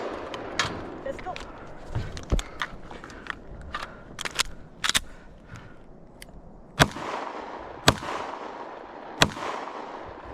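Wolf T91 rifle fire in a video game's Proving Grounds run-and-gun course, with sharp irregular single shots and short bursts, some louder and closer, over a low background.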